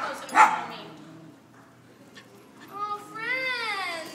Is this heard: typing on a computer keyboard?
no